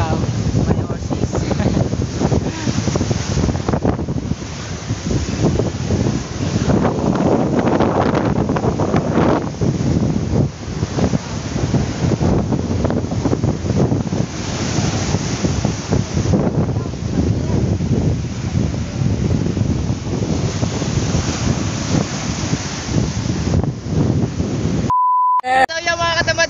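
Strong, rough ocean surf pounding a beach with heavy wind buffeting the microphone, a loud continuous roar of breaking waves that ends abruptly with a short electronic beep.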